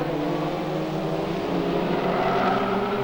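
A stock car engine drones steadily at Arena Essex as it eases off over the last half lap, a smooth sustained mechanical hum at middling distance with no other sounds over it.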